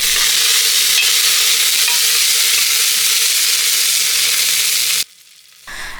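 Fenugreek seeds, ginger and garlic sizzle loudly in hot oil on a stove, a steady dense crackle for about five seconds that cuts off sharply before a fainter hiss returns.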